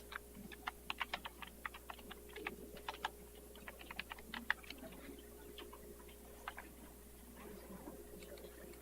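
Computer keyboard typing while plant specimen data is entered, quick irregular bursts of key clicks in the foreground over a steady low hum, fairly close and moderately loud.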